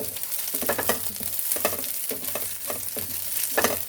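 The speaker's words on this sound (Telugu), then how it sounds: "చూడండి పచ్చిమిర్చి ఇలా వేగిందండి" Green chillies fry in a pan with a continuous sizzle and repeated stirring scrapes and clacks at an irregular rhythm, close and fairly loud, with no talking.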